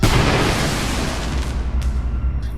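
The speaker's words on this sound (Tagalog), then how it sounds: "Maya-maya lang ay sumabog na nga ito" Car exploding in a Filipino horror story narration, a loud close boom that rolls into a sustained rumbling, crackling roar for a couple of seconds without any voice.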